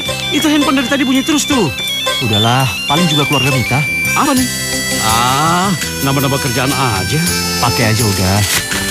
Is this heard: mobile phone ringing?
yes